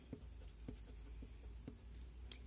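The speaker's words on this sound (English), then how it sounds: "so I'm gonna randomly erase a bit." Pencil coloring on paper being rubbed out with an eraser in short strokes, a series of soft, close scrubbing sounds repeating roughly every half second, quiet and alone.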